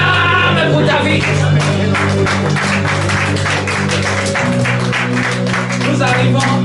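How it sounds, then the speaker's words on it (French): A church congregation at a Sunday service applauds and cheers, a dense, steady clapping that runs throughout. Voices and music with a droning keyboard tone sound underneath. "Acclame pour ta vie."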